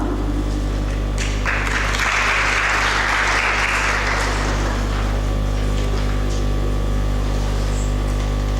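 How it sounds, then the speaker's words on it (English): Audience applause at a speech competition swells from about one and a half seconds, a dense burst of clapping over a steady room hum that fades out by around five seconds. "A big round of applause for her."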